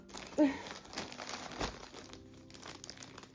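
A Hobbii yarn mystery bag is torn open, with a burst of loud crinkling packaging followed by steady rustling and crackling throughout.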